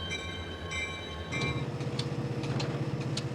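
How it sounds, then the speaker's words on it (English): A freight train starts rolling on its rails, with a horn blast sounding at first, then a steady rhythmic clatter of wheels over rail joints, loud and close, without any talking. "A new crew comes aboard, and the train moves on."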